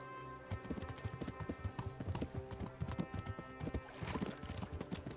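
Horse hooves clip-clop in a quick, steady rhythm during riding in the video game Kingdom Come: Deliverance, close and clear, with game music tones layered underneath.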